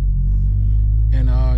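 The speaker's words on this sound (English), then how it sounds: "I'm driving right now out of second gear" A modified 500 hp Honda Civic Si with an upgraded clutch pulls in second gear, its engine a loud, steady low rumble from inside the cabin that rises in pitch and grows raspier toward the end.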